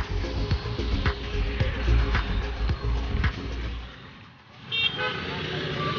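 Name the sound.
street traffic with cars and horns while crossing road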